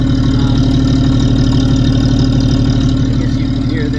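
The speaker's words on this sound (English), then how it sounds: "I can show you kind of a clean burning 6, pretty smooth running." A six-cylinder engine in a Foyota car idles smoothly and cleanly, loud and close, holding a steady, even rumble from start to finish.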